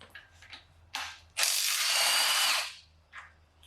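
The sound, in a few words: ratchet wrench loosening oil pump bolts on K24 engine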